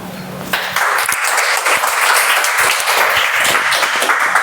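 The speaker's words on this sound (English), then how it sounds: "Let's have a huge round of applause again for that wonderful introduction." Toastmasters club meeting audience bursting into applause, a dense, close round of clapping that starts abruptly after a brief voice and carries on steadily to the end.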